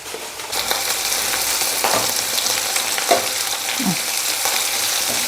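Food frying in a pan after a pinch of salt is added, a steady close sizzle with a few stirring scrapes and a brief clink partway through, no talk.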